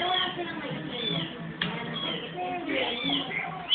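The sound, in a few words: kittens meowing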